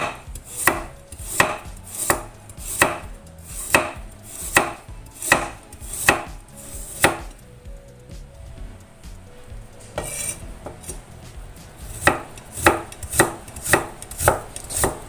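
Peeled carrot sliced with a knife on a board, steady evenly spaced cuts close by, a brief quieter gap midway, then a faster run of strokes.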